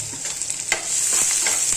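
Onion frying in a pan for a potato-and-pea sandwich filling, a continuous close sizzle that grows fuller in the second half, with a brief utensil knock.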